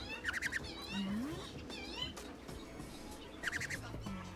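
A small bird chirps in short, bright bursts, a few quick trills at the start and again near the end, close by and fairly quiet.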